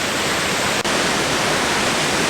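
Steady, full-band roar of a waterfall at the lower falls in the Scottish Highlands in winter, loud and close, a continuous rushing wash of water with a brief dip near the start.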